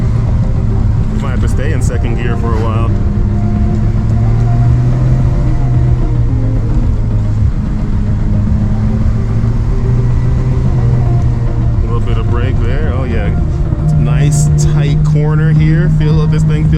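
A Nissan Skyline R34 GT-R engine drones loud and steady as it climbs a steep, tight hill in second gear on the Mt Fuji hillclimb, its pitch rising and holding, with a voice talking over it.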